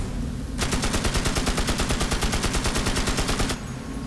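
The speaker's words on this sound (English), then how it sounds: "Maybe the machine gun will kill him." Rapid machine gun fire in the wizard video game Magicka, a steady stream of evenly spaced shots lasting about three seconds, loud and close over a low background rumble, with no talking.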